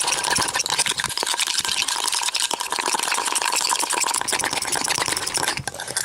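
Coffee mixture with a few drops of water whisked vigorously by hand in a bowl, making a continuous, dense scraping and swishing that runs steadily and close throughout.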